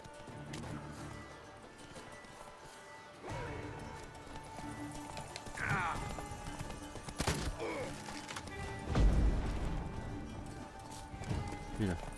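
Horse in The Witcher 3: Wild Hunt, with hoof clip-clops and thuds of movement heard under steady speech and game sounds, including a heavier thump near the end.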